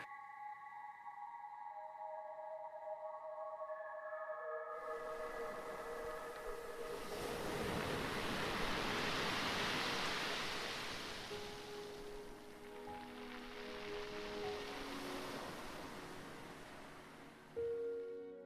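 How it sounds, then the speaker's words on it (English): A deep, swelling roar of seawater and air forced through a basalt sea cave rises out of a quieter opening, then surges and ebbs in broad rushing waves, loud and echoing, with no voices. "the deep roar echoing from the rock cave is the sound of water and air being strongly"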